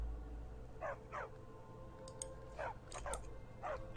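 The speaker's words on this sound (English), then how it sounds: "Wait, did I just get a dog?" A dog in the video game Skyrim barking in short, sharp yips, about five spaced out over a low ambient game hum.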